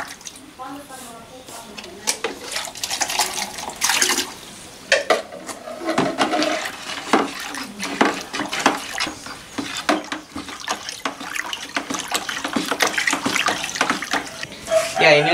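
Water mixed with a fungus culture is stirred by hand, giving continuous sloshing and splashing that swells and fades, with a voice talking over parts of it.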